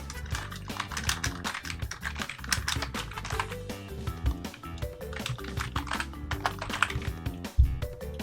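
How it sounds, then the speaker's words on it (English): Loud, rapid typing on a computer keyboard during a casual gaming live stream, with dense continuous key clatter and no talking. "I'll mute my mic because keyboard is apparently quite loud"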